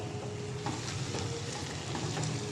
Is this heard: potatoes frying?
yes